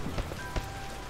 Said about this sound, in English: Oh, wow. It's rainy.